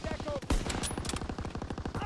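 Rifle shots from a sniper in a WWII multiplayer video game crack out as several sharp bursts over a steady buzzing hum, with a voice chatting faintly in the mix.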